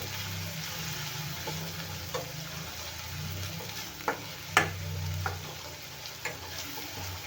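Pithla with turmeric is stirred in a hot pan: a steady low sizzle with scattered scraping clicks from the spoon, fairly quiet and close, and no voices.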